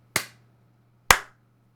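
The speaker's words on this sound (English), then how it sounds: "Let's do a 3, 2, 1 clap" Two sharp, isolated hand claps about a second apart, close and crisp with short decays, over a faint steady hum in an otherwise quiet room.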